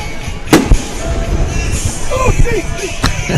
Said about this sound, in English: And we just had a few more fireworks as we're getting ready to start the second half.